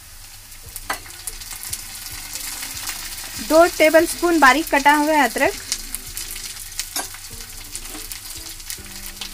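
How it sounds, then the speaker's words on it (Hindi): Onion, green chillies and ginger sauté in a hot pan for biryani rice, giving a steady frying sizzle with stirring scrapes, while someone speaks over it and a short burst of voice rises midway. "इनको डालकर अच्छी तरह से हम 1 मिनट तक सॉटे कर लेंगे।"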